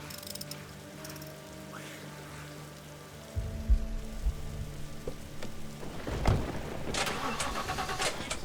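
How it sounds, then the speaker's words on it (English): A car engine starts up in the post-apocalyptic video game The Last Stand: Aftermath, a low rumble kicking in midway and then revving amid a steady rain-like background hiss. "Car's full. Engine."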